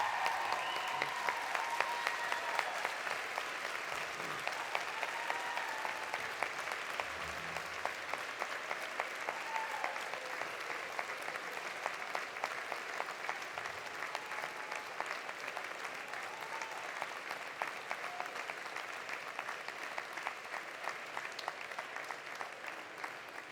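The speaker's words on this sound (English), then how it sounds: "Let's give the people who have supported you through all of this, your parents, your siblings, your grandparents, your spouses, children, and friends, a huge round of applause." A large crowd claps steadily at a university spring convocation, a dense, continuous wash of applause that holds for over twenty seconds without any talking.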